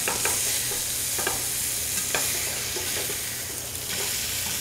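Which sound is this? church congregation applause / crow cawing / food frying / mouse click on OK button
food frying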